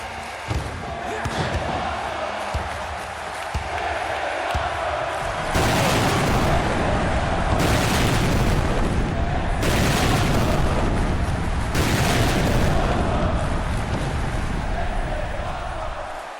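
Explosions boom in an exploding barbed wire match in the wrestling video game AEW Fight Forever, heavy bursts recurring every couple of seconds over a loud, roaring crowd din.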